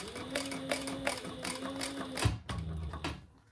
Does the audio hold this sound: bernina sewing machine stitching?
yes